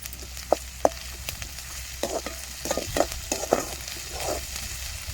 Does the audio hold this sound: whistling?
no